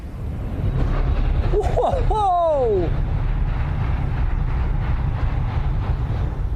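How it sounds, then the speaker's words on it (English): A Japanese bullet train rushes past at speed on the line between Yaita and Nasushiobara, a loud sustained roar of displaced air that fills the whole stretch, while a nearby walker lets out a startled exclamation. "Bullet train."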